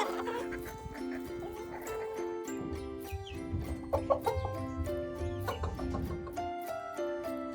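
Chickens cluck in a coop, a busy mix of short clucks, squawks and calls from several birds overlapping at close range, with no talking.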